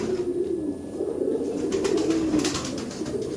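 Kabji pigeons coo softly in low, throaty, rolling calls, fairly close, with light rustling and fluttering noises in the background.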